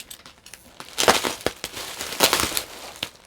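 Thick padded bubble wrap around a comic being cut open, close crinkling and crackling plastic in short irregular bursts, with two louder rustling surges partway through.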